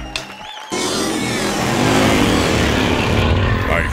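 A custom cafe racer motorcycle engine catches after a brief quiet start, then runs and revs steadily with a loud, close, continuous roar for several seconds.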